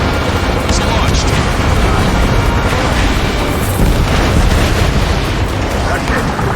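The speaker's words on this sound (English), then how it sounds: "Missile launched." Missile launch and explosion in the Ace Combat 7 combat flight game, a dense, sustained roar with booming bursts throughout, loud and continuous with no break.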